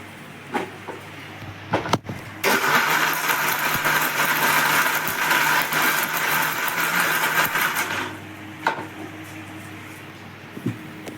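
Electric mixer grinder whirring as it grinds henna leaves with fenugreek powder, a loud steady motor roar running for several seconds in the middle, with brief clicks and handling knocks before and after.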